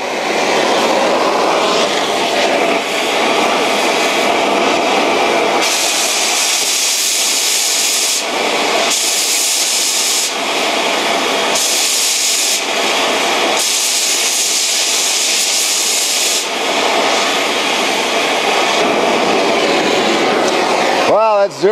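Stainless steel being cut with an oxyacetylene or plasma torch, a loud continuous broadband hiss and roar that holds steady for about twenty seconds with brief dips in the upper hiss, with faint voices underneath.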